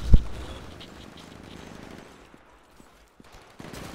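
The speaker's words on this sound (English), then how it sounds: "Kind of a plasma cannon thing. Actually, it's like an arc cannon." An arc cannon, a lightning-shooting weapon in Titanfall, fires one sharp loud crack at the start, followed by a fading crackling tail, then near quiet with a few faint ticks before a burst of noise returns at the end.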